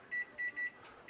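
Four short, clear electronic beeps as a kitchen timer is set to 30 while simmering chicken legs with mole sauce, evenly spaced and fairly close, with a faint rustle between them.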